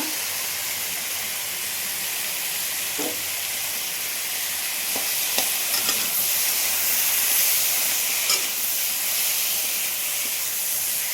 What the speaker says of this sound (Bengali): এই যে দিয়ে দিলাম গোটা মশলা,